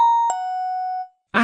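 A Samsung mobile phone ringtone plays a single bright, sustained chime that rings for about a second and fades, followed by a brief burst of voice at the very end.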